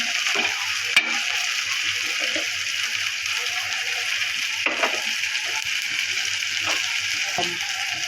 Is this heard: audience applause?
no